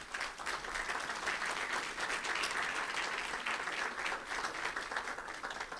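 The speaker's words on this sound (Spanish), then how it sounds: "yo pido un fuerte aplauso para" Steady applause from an audience at the inauguration of the 61st meeting of the Latin American Laboratory, honoring Ministry of Education staff, a dense, even clapping that continues without pause.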